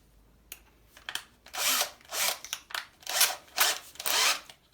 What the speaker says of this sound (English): now I'll use the masonry bit